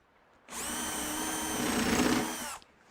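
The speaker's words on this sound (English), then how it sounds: "This is the non-marking countersink and drill, and we'll put one in the center" A power drill spins a non-marking countersink drill bit into wood for about two seconds, a loud steady whine that starts abruptly, strains slightly near the end, then stops.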